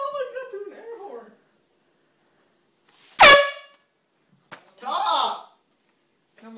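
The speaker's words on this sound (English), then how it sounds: "I've never seen Owen go through an air horn." An air horn fires in a prank, one short, loud, blaring blast that cuts through the quiet, with people's voices heard before and after it.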